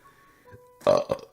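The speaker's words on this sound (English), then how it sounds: "Sorry about the burps." Two short wet burps erupt after a faint tonal sound, the first loud and the second briefer, close and alone without talk.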